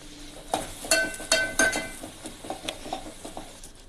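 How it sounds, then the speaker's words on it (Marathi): Masala sautéing in oil for egg curry, with a soft sizzle under scraping stirs and spoon taps against the pan coming in an uneven rhythm close by. "छान तेल सुटेपर्यंत परतलेलं आहे."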